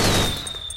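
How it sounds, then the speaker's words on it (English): A grenade launcher fires at an enemy in the video game Metal Gear Solid 4, a short burst of blast noise with a faint descending whine, fading quickly. "Then I'll take him out using the grenade launcher."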